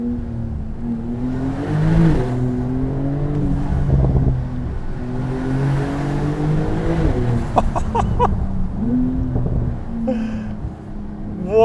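A 2025 Porsche 992 Turbo 50 Years edition accelerates in a loud, sustained engine pull, its steady harmonic tone rising and falling through several surges, with brief mechanical ticks and a final burst of revs near the end.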